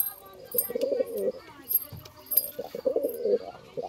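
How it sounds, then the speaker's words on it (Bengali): A Chinese Kaldam pigeon coos repeatedly up close, soft throaty rolling calls in two clear bursts, with faint chirps and light rustling around them. "তো এটা কালদম, চীনা কালদম পায়রা"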